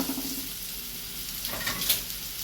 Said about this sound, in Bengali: এবারে আলুগুলো মোটামুটি আমার ভাজা কিন্তু হয়ে গেছে